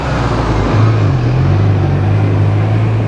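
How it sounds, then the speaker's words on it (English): A bus passes on a street in Merida, a loud steady engine drone with a low rumble that rises in pitch as it moves by, amid general traffic noise and no talk. "There it is. A bus, that's our worst nightmare. They're super loud"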